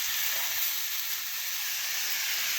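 Cumin, mustard and garlic paste sizzles steadily in a hot frying pan during a prawn dish, a constant bright hiss with no talking.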